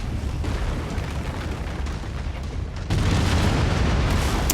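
Autocannon fire from a mech in MechWarrior 5, a steady run of heavy booming shots with a thick low rumble that grows louder and denser toward the end.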